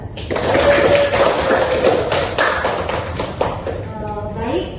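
Students clap briefly at the end of a classroom lesson, a short burst of taps and thuds under a teacher's ongoing speech.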